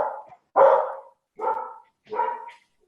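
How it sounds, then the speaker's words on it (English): Dogs bark in the background of a discussion, four separate woofs spaced about a second apart, fairly close and clear with no talk over them. "can you hear my dogs in the background?"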